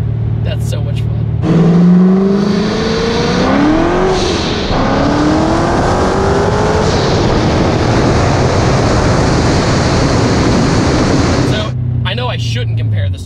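Supercharged 550 hp C7 Corvette accelerating hard through the gears, loud engine note sweeping upward with brief shift breaks, a continuous roar that fades out near the end with talk at the start and finish.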